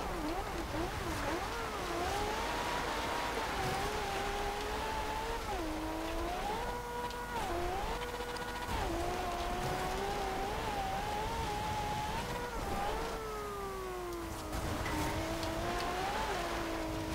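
The engine of a 1995 Ferrari F50 in Forza Horizon 2 howls loudly and continuously, its pitch climbing and dipping through gear changes and throttle lifts, with a brief tyre or gravel rasp partway through.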